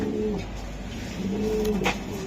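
A racer pigeon coos softly nearby, two low, drawn-out coos with a faint rolling quality over quiet background hiss.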